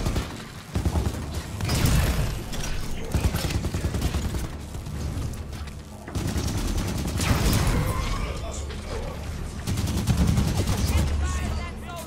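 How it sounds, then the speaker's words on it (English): Auto turrets firing in the video game Halo 5: Guardians, loud sustained rapid bursts with mechanical clanks, under intermittent talk. "Turrets on and firing."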